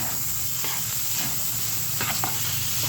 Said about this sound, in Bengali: মশলাটা দিয়ে দেবো লুডুসগুলো মিশিয়ে নেব